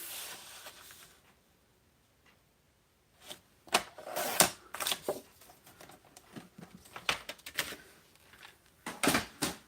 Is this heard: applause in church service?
no